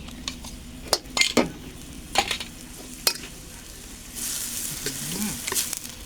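Ground red curry paste for a pineapple and pork belly curry is stir-fried in a pan, with sharp spatula scrapes and clinks over a low sizzle that swells into a louder hiss toward the end.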